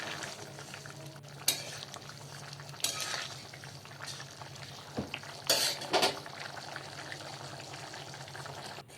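Potato and chana dal curry is stirred in a pan, with intermittent scraping clinks of a spoon against metal over a low, steady sizzle of cooking.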